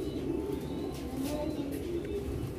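Homing pigeons coo softly and continuously at close range, a low throaty burbling with faint rustling in the background.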